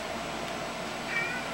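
A tortoiseshell cat gives a single soft, short meow indoors, faint against a steady low room hiss.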